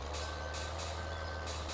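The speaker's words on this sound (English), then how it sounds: "we're gonna have to get this truck back out of here." A reversing truck in Farming Simulator 2013 sends out steady evenly spaced beeps, about four pulses over a low idling engine drone, close and clear with no talk.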